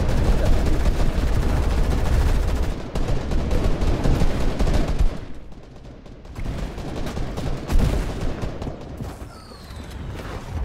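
Bursts of rapid gunfire and booming shots in a Fortnite match crackle loudly and continuously, easing briefly in quieter gaps before more shooting resumes.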